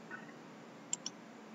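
A mouse button clicks twice in quick succession, a faint press and release, against a quiet steady background hum.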